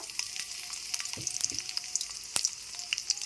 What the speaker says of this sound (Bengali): ওই তেলের মধ্যেই প্রথমে দিলাম কাঁচা লঙ্কাগুলো